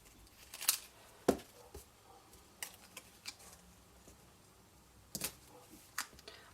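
Scissors trim paper for a votive candle box, giving a handful of sharp, isolated snips and small clicks spaced irregularly in an otherwise quiet room.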